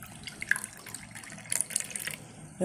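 Banana stem juice is poured into a pot in a home kitchen, a brief trickling, splashing stream with small droplet spatters, fairly close and alone without talk.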